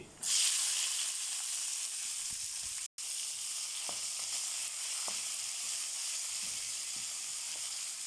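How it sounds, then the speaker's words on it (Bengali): Chopped onions and ground spices sizzle steadily in hot oil in a pan, a loud, continuous frying hiss with occasional stirring scrapes and one brief dropout, and no talking. "তেল দিয়ে বানাচ্ছি, দিয়ে দিলাম গুঁড়া মশলাগুলো, দিলাম পেঁয়াজ কুচি"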